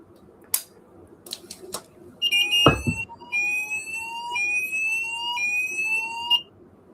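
A control panel's alarm sounds a steady electronic two-tone pulsing beep for several seconds, close and clear, preceded by a few clicks and a thud, with no one talking.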